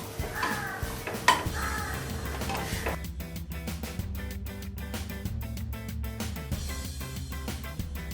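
Cooked savoury filling for salt kozhukattai (urad dal modak) is scraped from a pan onto a plate, with repeated metal spoon clinks and scrapes against the cookware and a faint background sizzle.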